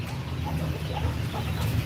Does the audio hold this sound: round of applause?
no